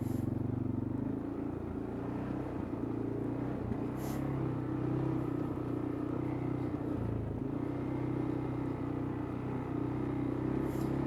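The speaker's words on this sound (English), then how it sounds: "when we go down this hill in four-wheel drive, it's gonna actually give us four-wheel drive engine braking" A CF Moto CForce touring ATV descends a hill in four-wheel drive under engine braking, giving a steady, continuous low engine rumble throughout with no one speaking.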